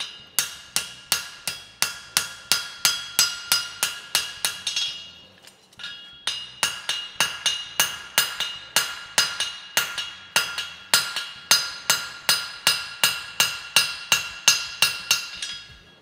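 A hammer tapping leather over the toe cap of a handmade bar shoe, striking in a steady, even rhythm of sharp, bright, close taps with one brief pause midway.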